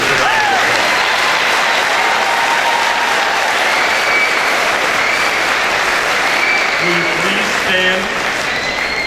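Loud, sustained applause from a large crowd at a high school graduation ceremony, steady clapping filling the whole stretch, with a few voices faintly audible near the end.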